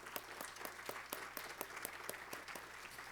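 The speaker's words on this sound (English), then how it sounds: "just to give ourselves a round of applause for taking this time for ourselves" Audience at a women's professional development event applauds itself, a modest group clapping at a steady rhythm with distinct individual claps over soft room hum, no voices.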